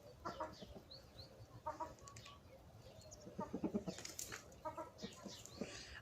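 Bantam hens cluck in short, scattered bursts nearby, quiet and intermittent with a few sharper calls, a soft farmyard murmur with no talking.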